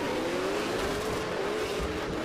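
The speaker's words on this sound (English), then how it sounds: "as he puts the foot down now. Has that engine screaming" A drift car's engine screams under full power at a 2024 drifting competition, one sustained loud note that climbs slowly in pitch, with no voices over it.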